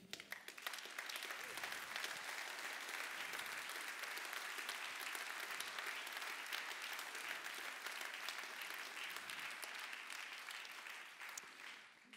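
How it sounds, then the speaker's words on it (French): Sustained audience applause greeting a newly introduced provincial party president at a New Year's gathering in Namur, a steady, full wash of many hands clapping with no talk over it. "Je vous demande de l'applaudir."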